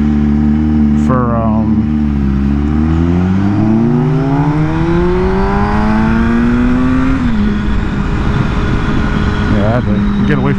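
A large bus engine roaring close by on a street, its pitch climbing steadily as it pulls away, loud and continuous throughout.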